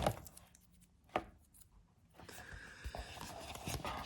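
A couple of sharp tearing rips, then a longer stretch of rustling and crinkling paper as an envelope is pulled open close by.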